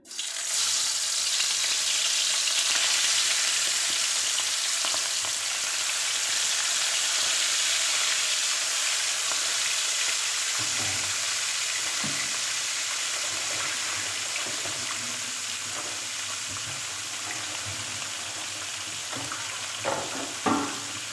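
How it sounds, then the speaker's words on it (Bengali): Fish rubbed with salt and turmeric frying in very hot oil: a loud, continuous hiss and crackle that slowly eases, with occasional clatters and scraping sounds near the end. "এখন আমি লবণ হলুদ দিয়ে মেখে রাখা মাছগুলো ভাজি করে নেবো"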